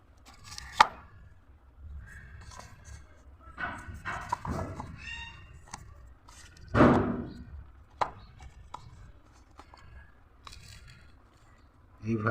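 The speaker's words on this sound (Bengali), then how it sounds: "গাছের গোড়ার থেকে একটু মাটিগুলোকে একটু সরিয়ে দিচ্ছি।" Scraping and chopping sounds of a small tool loosening soil around the base of a garden plant after mixing in phosphate, irregular close knocks and scratches with some quiet handling between them.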